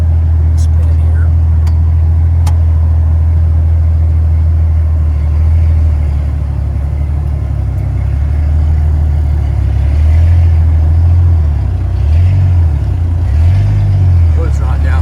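A Jeep Wrangler YJ engine hums steadily and loudly from inside the vehicle on a test drive after rewiring and fuel work, a low continuous drone that rises and falls slightly as it moves.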